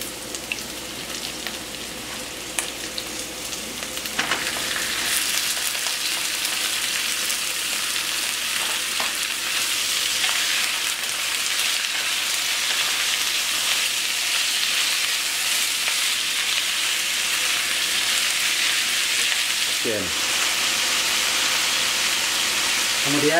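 Chicken pieces dropped into a hot pan for mushroom chicken noodles, a quieter start then a steady loud sizzle and crackle of frying oil that continues throughout, with a brief clatter near the end.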